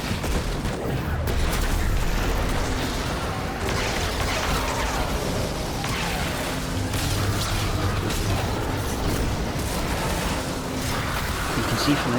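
Dense, continuous gunfire and explosions in the Destiny video game's Prophecy dungeon, a constant loud barrage of rapid shots and booms that fills the whole stretch without letup.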